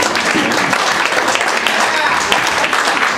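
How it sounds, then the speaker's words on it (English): Comedy club audience at a New York stand-up show breaking into loud, sustained applause, dense clapping filling the room throughout. "You're supposed to clap."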